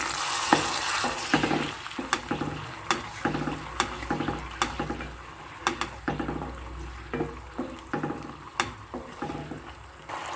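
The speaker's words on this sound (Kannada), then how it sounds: "ಈ ಹುಣಸೆ ರಸಕ್ಕೆ ಒಗ್ಗರಣೆನ ಹಾಕ್ಕೋತಾ ಇದ್ದೀನಿ ನಾನು" Spice tempering sizzles in a pan of thickened tamarind juice for a South Indian rice dish, a steady frying hiss broken by regular sharp clicks of a spoon stirring and scraping the pan, close and with no voices.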